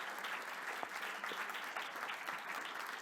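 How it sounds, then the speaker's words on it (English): Audience applause for a government minister at an AI forum, a steady crackle of many hands clapping heard from a moderate distance, fairly quiet and even with a few sharper individual claps standing out. "applause for Minister Champagne"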